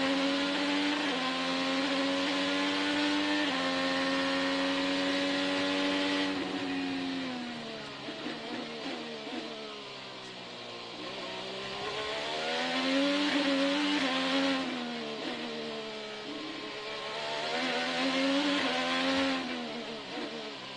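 IndyCar race car heard from onboard at the Detroit Grand Prix, its engine screaming loud and close, pitch climbing through gears, dropping under braking, then surging again with no voices.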